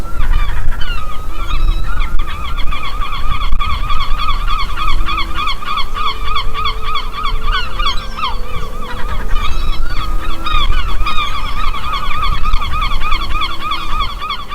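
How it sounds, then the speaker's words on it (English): Dense colony of seabirds calling nonstop on coastal cliffs along the Antrim and Donegal coast, loud overlapping honking and squawking cries layered with steady wind rumble, with no voices. "completely filled with birds flying everywhere and nesting on the edges of the rocks"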